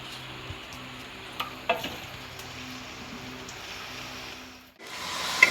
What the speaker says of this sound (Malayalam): ഇനി ചിക്കനെ നല്ല മിക്സാക്കി എടുക്കുക.